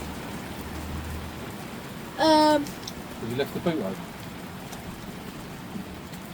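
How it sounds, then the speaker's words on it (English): Steady heavy rain hisses throughout at the Festival of Power at Santa Pod Raceway as people briefly talk over it, with a short distinct chime partway through. "it is absolutely pouring down there"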